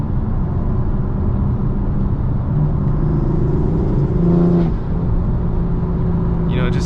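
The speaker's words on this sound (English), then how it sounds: "CTS turbo cold air intake installed, and it's really not that expensive, but it sounds just so good." BMW M4 engine fitted with a CTS turbo cold air intake, heard from inside the cabin: a steady low drone that swells under acceleration around the middle, with a faint voice near the end.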